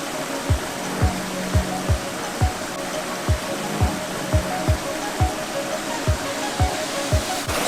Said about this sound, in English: So reach this little baby falls.